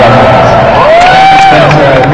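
A convention panel audience cheers and shouts loudly, with whoops and voices mixed in a dense, close crowd roar that swells through the short burst.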